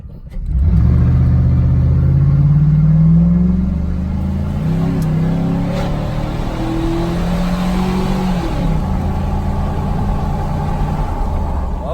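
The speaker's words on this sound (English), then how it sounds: "When you heard it spin up there for a second, it just broke the freaking tires loose." A 2004 Chevrolet Silverado with a 5.3 engine accelerates hard uphill from a standstill on a new tune, its loud engine roar climbing through the gears with tires breaking loose, steady and close with no talk.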